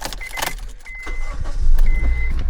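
A base Honda Civic creeps slowly into a garage, its quiet engine a low steady rumble close by, with faint thin whines and small rattles above it and no talking.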